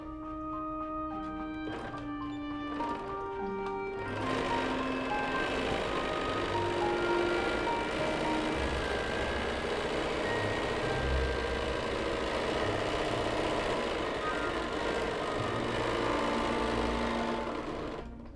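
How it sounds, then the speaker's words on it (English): A sewing machine runs steadily, stitching around three sides of a tote bag, its motor hum and rapid needle rhythm continuous and close after a few short start-stop bursts at the beginning. "I'm gonna stitch around the three sides of the bag"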